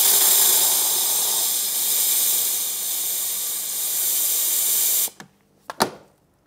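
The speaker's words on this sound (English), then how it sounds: "I want to recommend sticking your steamer in there like so" A steam cleaner blasts a continuous loud hiss of steam into a car interior for about five seconds, then cuts off, leaving a few short clacks and bumps of handling.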